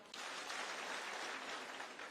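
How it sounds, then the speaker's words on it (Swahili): A crowd at a Kenya Kwanza political campaign rally in Busia applauds in a dense, steady wash of clapping that holds for about two seconds, heard from a distance and faint, with no talk over it. "Makofi."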